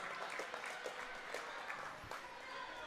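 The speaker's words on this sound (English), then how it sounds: "Applause." Applause from parents and spectators at a youth girls' hockey trophy ceremony on the ice after the Mt. Lebanon Hornets classic finals, a steady wash of clapping with some voices mixed in, moderately distant.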